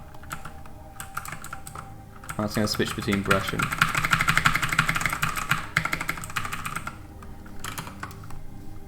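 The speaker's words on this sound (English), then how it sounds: "The keyboard, it's deafening." A computer keyboard is typed on in rapid, loud clacking bursts close to the microphone, mostly under a person talking.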